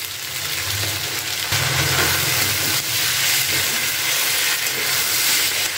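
Vegetables fry with a loud, steady sizzle and hiss in a pan as soy sauce goes in, the crackle swelling briefly and continuing close and dense throughout.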